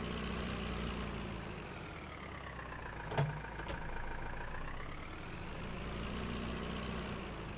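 Tractor engine idling in the Farming Simulator 19 video game, a steady low rumble running throughout with a brief louder thump partway through, with no talking over it.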